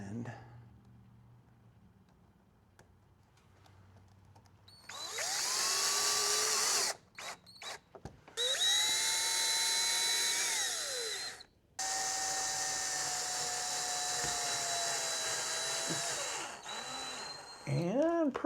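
Power drill driving self-tapping metal screws with washers into a cargo/camp trailer wall while fitting a Chinese diesel heater, three loud whirring bursts with brief stops between them and a quiet lead-in.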